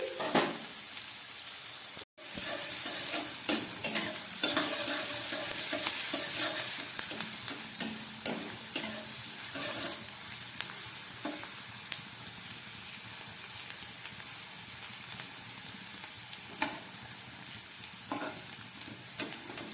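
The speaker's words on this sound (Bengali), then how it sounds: "পেঁয়াজগুলোকে একটু ভেজে নিচ্ছি" Onions fry in a pan for a curry-leaf potato dish, giving a steady, close sizzling hiss with scattered sharp crackles and an occasional clatter of stirring throughout.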